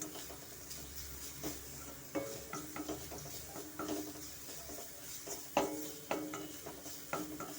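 Amla gojju frying in a pan while a spoon stirs it, repeated scraping strokes over a faint steady sizzle, moderately quiet and close.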